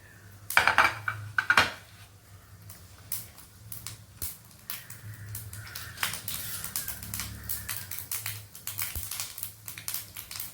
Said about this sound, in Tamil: கடுகு நல்லா பொரியணும்